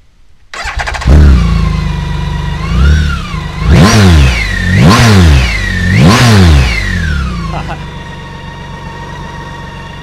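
A 2017 BMW K1600 bagger touring motorcycle engine idles, then revs hard three times in quick succession, each roar climbing and falling, before settling back to a loud idle. Close and loud.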